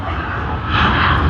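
A China Southern Airlines airliner departing Sydney Airport, its engines giving a loud, steady roar that swells slightly as it passes, with no voices.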